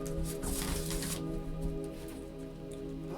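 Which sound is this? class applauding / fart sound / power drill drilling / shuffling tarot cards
shuffling tarot cards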